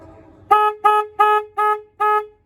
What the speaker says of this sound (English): Got a loud horn, sounds like a car.